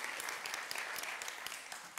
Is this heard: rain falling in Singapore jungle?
no